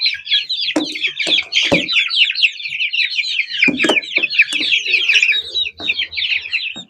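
A flock of hens and chicks clucks and chirps up close. Dense high peeping runs throughout, broken by a few sharper clucks and scuffs.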